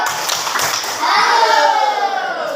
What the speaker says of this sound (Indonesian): Oke, kalau bagus kita kasih tepuk salut.